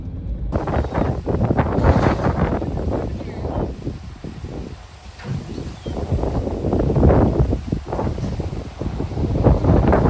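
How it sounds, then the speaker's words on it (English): Strong gusty wind buffets the microphone outdoors on a van trip, a loud continuous rumbling roar that swells and dips throughout with no speech. "Wind is crazy today."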